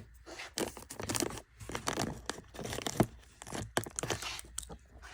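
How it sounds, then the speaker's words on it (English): A firework fuse protector is torn off a 1.4 compound cake in a series of crisp tearing and crinkling bursts, close by and irregular, with short quiet gaps between pulls. "You tear it off."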